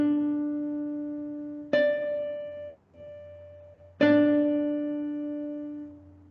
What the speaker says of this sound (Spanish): La proportio dupla, que de origen a la octava, suena así, como una octava.